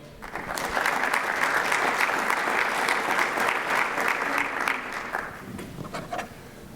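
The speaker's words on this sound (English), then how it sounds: "Please give a warm round of applause to Keith Tarantino." A conference audience at a ransomware security talk breaks into a sustained round of applause, loud and steady for about six seconds before tapering off.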